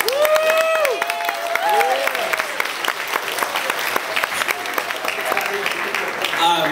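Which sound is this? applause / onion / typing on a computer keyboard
applause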